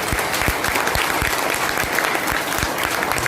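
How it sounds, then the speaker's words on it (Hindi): An audience at a business seminar in Chapra claps loudly and steadily, a dense close wash of hands with no pause. "ताली नहीं बजनी चाहिए क्या?"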